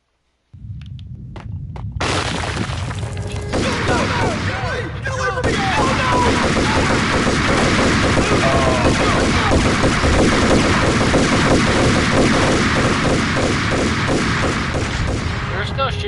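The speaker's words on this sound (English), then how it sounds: "They're still shooting." Sustained heavy gunfire in the Max Payne video game, loud and nearly continuous after a short quiet start, with rapid overlapping shots and booms and a voice speaking over the noise.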